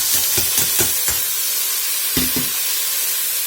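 Wet, freshly washed cabbage dropped into a hot soup pot on high heat: a loud, continuous sizzling hiss, punctuated by a few soft thuds and clatters as it is added and stirred.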